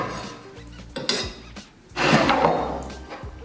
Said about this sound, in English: I'm going to put them all together in a mortar and a pestle and grind it.